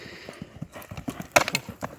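A young racing horse gallops, its hoofbeats thudding in a quick, uneven rhythm at moderate distance and growing louder toward the middle, with no talk over them.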